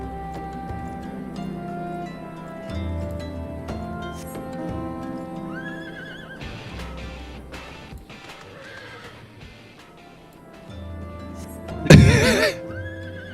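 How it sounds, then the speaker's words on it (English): A horse mount neighs in the game Final Fantasy XIV, a loud whinny bursting out near the end over layered orchestral game music, with no talking. "This is the Elsa horsey"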